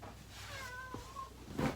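A cat gives a drawn-out meow, rising and then falling, followed by a brief, louder cry at the end.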